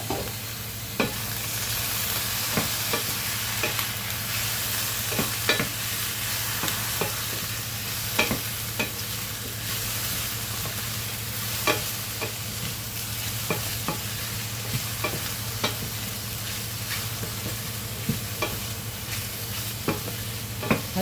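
Fresh lily bulb stir-fries in a hot pan: a constant close sizzle broken by frequent sharp clicks and scrapes of a utensil stirring, with no one speaking.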